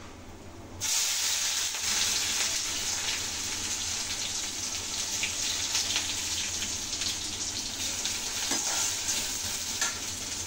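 Onions hit hot oil in a pan for a leftover-rice biryani, and a loud, steady sizzle starts at once and keeps going with small crackles and spatters.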